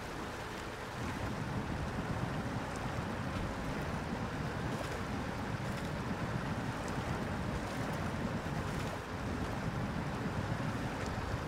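A truck drives through water in SnowRunner, a continuous sloshing, rushing wash with a low engine rumble underneath, steady and unbroken throughout.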